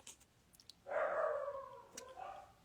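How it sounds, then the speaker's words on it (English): A dog gives a single drawn-out whining bark, faint and distant from the microphone, followed by a softer second yelp in a quiet room. "Can you hear my dog?"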